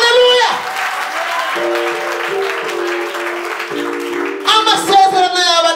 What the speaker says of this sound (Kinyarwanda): Nimuyikomera amashyi.